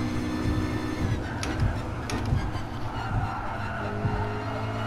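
A McLaren P1 GTR race car driven in the GT Sport video game, its engine roaring continuously with tire skids and squeals layered on top, loud and close throughout.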